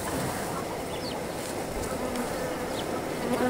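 Bees from a newly bought hive buzz steadily around a garden, a continuous close droning hum with no pauses and no talking.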